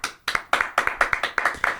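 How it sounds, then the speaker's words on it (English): Several people clap their hands together in a quick, irregular burst of about a dozen sharp claps, close by and loud, with no talking over them. "Why are we clapping?"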